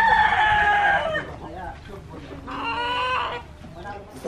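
A rooster crows loudly and close by twice, each call a drawn-out, strained cock-a-doodle-doo, among gamecocks kept for cockfighting, with a rumbling background between calls.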